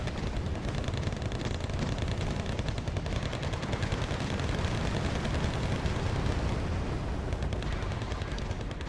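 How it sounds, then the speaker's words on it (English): A Zippo flamethrower in the war game Wargame AirLand Battle pours out fire nonstop, a dense, loud, unbroken roar with crackling texture that holds steady throughout. "Zippo's just causing a complete wall of fire."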